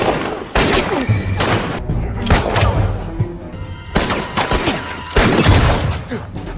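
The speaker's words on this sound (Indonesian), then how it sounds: "terjadilah baku tembak antara Dove dan Jacob CS" Repeated gunfire in a western film shootout at an old mine: bursts of loud, sharp shots and booming reports come in several clusters over dense, busy background sound.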